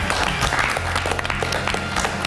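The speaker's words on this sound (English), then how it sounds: "Oh, should we give him a round of applause?" A dense studio audience claps and cheers at a Big Brother UK 2014 eviction show, a continuous loud wash of applause throughout.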